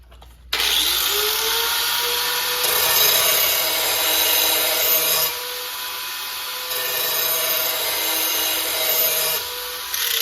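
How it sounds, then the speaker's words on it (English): A lawn mower blade gets its back edge deburred with a power tool, a loud, steady grinding rasp that starts abruptly and runs on in long passes, with slight shifts in pitch and level between strokes. "deburr the back side to get it razor sharp"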